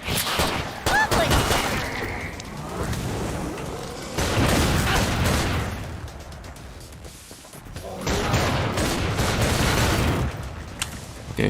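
Pistol fire in the video game Killing Floor 2, rapid repeated shots mixed with booming impacts and crashes in dense bursts, with a quieter lull in the middle of the action.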